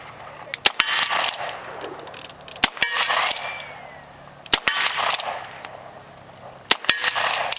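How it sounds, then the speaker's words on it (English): Gunshots at an outdoor shooting match in Raton, New Mexico: loud, sharp reports, mostly single with a few quick pairs, spaced irregularly over a low background hum. "This is Mr. YouTube shooting."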